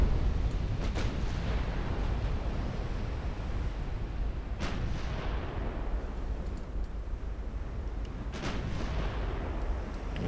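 Battleship main gun turret firing in Ultimate Admiral Dreadnoughts: a few heavy booming salvos, spaced several seconds apart, roll out over a constant rumbling sea-battle background with no talking.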